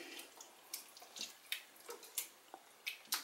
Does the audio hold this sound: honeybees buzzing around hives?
no